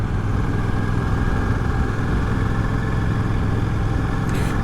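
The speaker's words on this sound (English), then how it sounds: "Out on the beautiful Royal Enfield Classic 650 again." Royal Enfield Classic 650 motorcycle out on a ride, its engine a steady, unbroken drone with rushing wind noise, loud and constant throughout with no voices.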